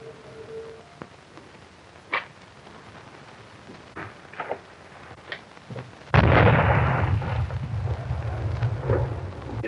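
Bomb blast in a 1936 western film: after scattered faint clicks and thumps, a sudden loud rumbling explosion hits and rolls on, decaying slowly.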